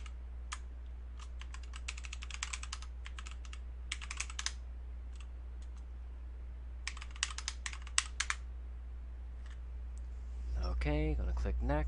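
Keys on a computer keyboard clatter in two quick bursts as a password is typed during a SimplyMEPIS 6.0 Linux install, with a steady low hum beneath and a voice speaking briefly at the end.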